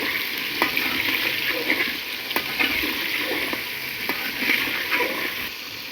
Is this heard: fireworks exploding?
no